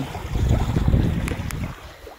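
A boat motor rumbles low with wind and water noise, swelling briefly then fading.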